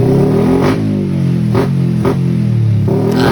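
Yamaha X1R 135 motorcycle, started after sitting unused for a long time, revving loudly with repeated throttle blips over a steady idle, close by with no talk.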